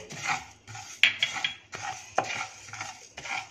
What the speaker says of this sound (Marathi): gas flame medium to low ठेवूया आणि यामध्ये आपण आता प्रथम मसाले भाजून घेऊया